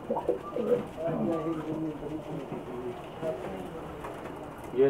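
Soft, low pigeon cooing murmurs continuously under a muffled, noisy background, with a few clearer coos early on.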